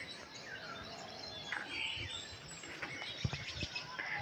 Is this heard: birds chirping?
yes